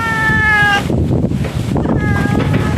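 A cat meows twice, a drawn-out cry followed after a pause by a shorter one, close and clear over outdoor background noise.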